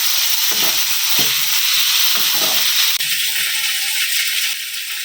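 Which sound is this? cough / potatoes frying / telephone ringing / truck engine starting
potatoes frying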